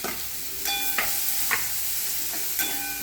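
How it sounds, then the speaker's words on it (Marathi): Chopped onions sautéing in hot tempered oil in a home kitchen pan, a steady close sizzle with a few brief stirring scrapes and clinks, no voices. "भरपूर कांदा घालते आणि तो परतून घेते छानपैकी।"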